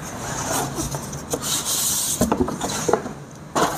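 The cardboard box of a Canon 6230 printer being unboxed: close rubbing, scraping and rasping of cardboard in uneven bursts, with a sharp tearing sound near the end.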